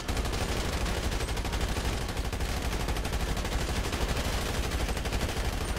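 Sustained rifle gunfire from GTA 5 rattles on without pause, a dense, loud barrage of rapid shots filling the whole stretch with no talking over it.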